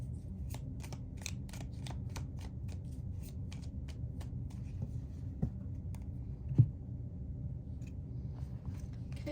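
Tarot cards being shuffled by hand, a quiet close run of crisp riffling flicks and soft slaps repeating in a steady rhythm, with a low background hum and no talk.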